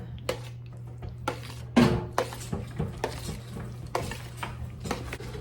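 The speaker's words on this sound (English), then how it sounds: "Okay, and I will mix that up and see what we have." Spoon stirring homemade applesauce mixed with food coloring in a bowl, giving repeated scraping and clinking strokes at an uneven rhythm, close up over a steady low hum.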